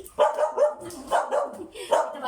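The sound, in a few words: dog barking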